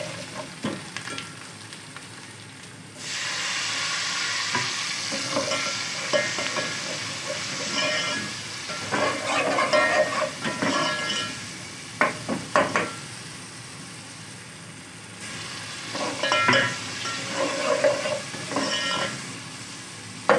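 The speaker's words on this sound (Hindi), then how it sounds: "लहसुन अदरक को थोड़ा सा हम 1 मिनट के लिए फ्राई करेंगे" Garlic and ginger fry in a pan for nihari, giving a continuous loud sizzle with bursts of stirring and scraping against the pan, close and without talk.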